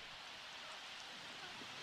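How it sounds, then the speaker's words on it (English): Steady rain in The Sims at a beach home, an even, continuous hiss of falling drops throughout with no breaks or voices. "it's kind of a shame we just moved to the beach and it's raining."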